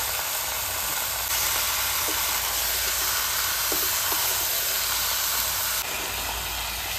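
Meat sizzles loudly in a pan after being added with salt for a Bengali home-cooked meal. The frying hiss is close, steady and strong throughout, with a few small crackles and no voices.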